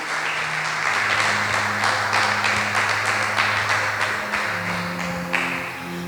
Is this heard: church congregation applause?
yes